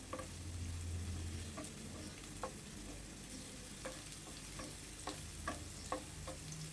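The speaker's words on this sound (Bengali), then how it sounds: "রসুন এবং পেঁয়াজটাকে আমি হালকা করে ভেজে নিব।" Chopped garlic and onion are stirred in a hot pan while frying lightly for a tomato mash, giving a faint sizzle and occasional spatula taps. A louder clatter comes right at the end.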